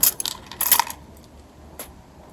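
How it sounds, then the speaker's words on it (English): A heavily loaded keyring, covered in metal keychains and charms, jingles and clinks in two short bright bursts close to the mic, then a single faint chime, with no talking. "Not to make too much noise because I have a lot of crap on these keys."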